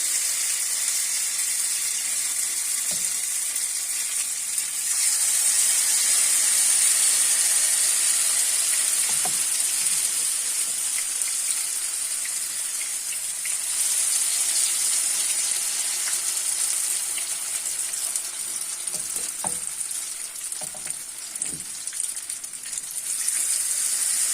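Grated potato fritters sizzle in hot oil in a frying pan, a continuous bright crackling hiss held at an even level for the whole stretch, with occasional faint clinks and no speech.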